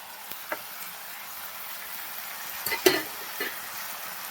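Green chillies sizzle faintly in a pan while being stirred, with a few soft scraping and clinking strokes near the end, for chicken curry with roasted ground coconut.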